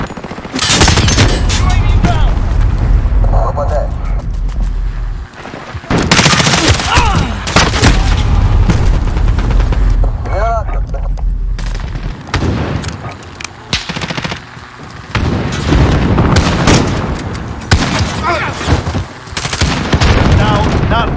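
Sustained video game gunfire in a battle-royale style match, loud bursts of automatic weapons and scattered booms that continue nearly the whole time with brief lulls, while voices and game callouts are heard intermittently.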